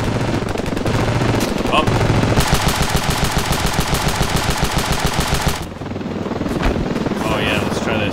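In the video game Ravenfield, a 12.7 mm (.50 caliber) machine gun fires one long, rapid, even burst of loud shots over a steady rotor-like drone, then cuts off abruptly; a voice gives a brief exclamation.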